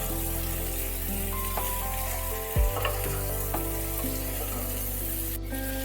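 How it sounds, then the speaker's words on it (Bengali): Potatoes with salt and jaggery dust sizzle in a pan while being stirred and turned, a continuous frying hiss with a few scraping strokes, near and alone without speech. "নুন আর জ্যাগরি ডাস্ট যেটা দিয়েছি, ভালোভাবে সেটা নেড়ে চেড়ে আলুর সাথে মিশিয়ে দিতে হবে"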